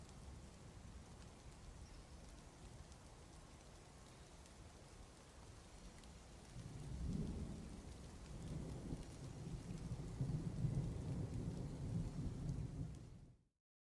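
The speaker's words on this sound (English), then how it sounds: "Gotta love that sweet sound of that DF rain." Steady rain falling in the video game Dwarf Fortress, with a low rolling thunder rumble swelling in midway and lingering under the downpour before it cuts off abruptly.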